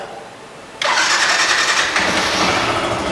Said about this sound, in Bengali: এবার চেষ্টা করব বাইকটা স্টার্ট করে আপনাদেরকে সাউন্ড শোনানোর